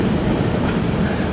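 Steady low rumble and clatter of a narrow gauge steam train rolling downhill on rails on the Georgetown Loop Railroad in Colorado, heard from aboard as a constant dense roar with no distinct beats.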